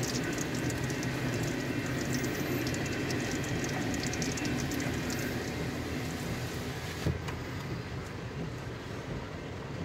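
A train on railroad tracks during a thunderstorm gives a steady low rumble and hiss that carries on throughout and eases slightly near the end as the last cars pass, at moderate distance with no talk.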